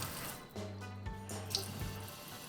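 A little water is poured into a bowl holding a lime mixture, making a soft, steady trickling splash. It sits close but quiet over a low background hum.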